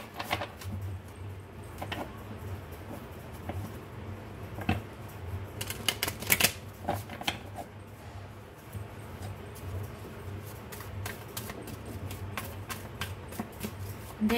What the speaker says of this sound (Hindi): सबसे पहले मैं चाक्रा विजडम और ओरेकल डेक से कुछ कार्ड्स निकालूंगी आपके लिए।